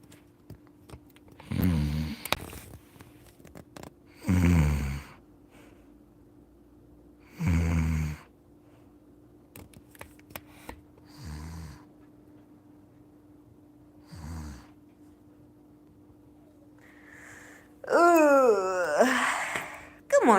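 A man fakes loud, exaggerated snores in a series of separate bursts a few seconds apart, with quiet gaps between them, ending in a longer wailing, moaning sound; the voice imitates snoring.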